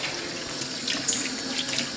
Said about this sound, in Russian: И спокойно водой вымываем.